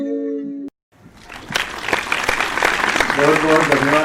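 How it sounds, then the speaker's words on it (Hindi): An audience at a Hindi kavi sammelan poetry gathering welcomes a poet to the stage with applause. The clapping rises after a brief tone and a short silence, then swells into loud, dense clapping mixed with voices. "जोरदार ताली से आप स्वागत करिए आप हिमांशु भवसार हिंद जी का"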